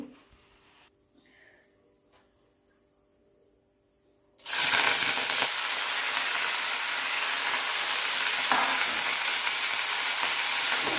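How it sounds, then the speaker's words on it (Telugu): After a few quiet seconds, ponnaganti leaves drop into a tablespoon of hot oil and break into a sudden, loud, steady sizzling hiss that holds to the end, with no voices. "ఒక టేబుల్ స్పూన్ ఆయిల్ పోసుకొని పొన్నగంటి కూర అందులో వేసుకోవాలి"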